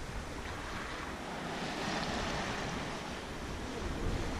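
Sea waves wash around a sailing boat traveling from Porquerolles toward Saint-Cyr-les-Lecques, a continuous soft hiss of water and wind that swells slightly partway through, without any voices.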